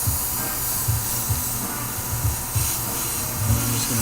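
An airbrush sprays paint over white on an RC car body, giving a steady close hiss with a faint low pulsing underneath throughout.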